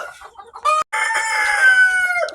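Chickens in a pen clucking and crowing up close, a loud drawn-out call rising over short clucks, with no one talking.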